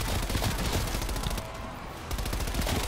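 Loud, continuous automatic gunfire in Call of Duty: Black Ops Cold War zombies mode, rapid shots running nearly throughout with a brief dip partway.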